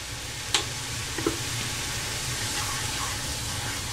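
Dry chilli prawns sizzle steadily in a pan while being stirred after salt is added, a continuous close frying hiss with a couple of brief utensil clinks near the start.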